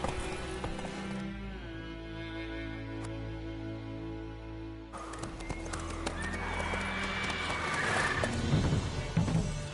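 Roach the horse in a PS4 video game gives a long tonal whinny, followed by hoof clip-clops and busier game noise as the sound swells toward the end.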